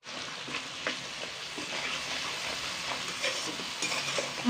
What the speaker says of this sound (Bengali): মশলাটাকে খুব সুন্দর করে একটু কষিয়ে নেব।